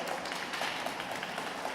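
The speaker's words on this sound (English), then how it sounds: "give yourselves a round of applause" Applause from an audience, a steady wash of many hands clapping at once, heard fairly quietly and from some distance.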